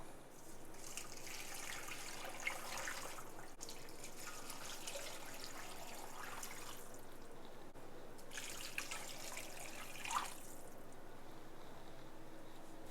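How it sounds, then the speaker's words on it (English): Water runs steadily into a pot of bones for broth, a continuous splashing rush with faint drips, rising and falling in a few long pours with no talking. "So I'm going to cover this all in water now."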